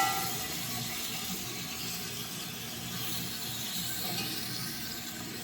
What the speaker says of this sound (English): We dump the meat in the pan and brown the various pieces.